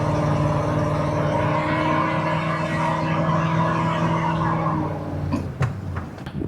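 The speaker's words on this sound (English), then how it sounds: "It's insanely easy to do a burnout on this, which I'll show y'all in a second." A Ford Crown Victoria with a 4.6-liter engine does a burnout, giving a loud, sustained squeal and engine roar that holds steady for several seconds before cutting off into scattered knocks and clatter.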